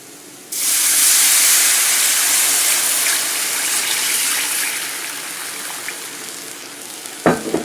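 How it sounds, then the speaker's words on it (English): Water poured all at once into a hot pan of browned liver and onions bursts into a loud, steady hiss and sizzle that slowly eases, with a few clanks near the end. "So what I'm going to do now is add my water."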